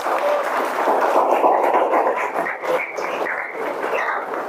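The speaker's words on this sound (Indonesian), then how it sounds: "Kasih aplaus buat temannya." Classroom applause for a classmate in a teacher-training lesson, steady clapping from a group of students lasting several seconds, close and fairly loud.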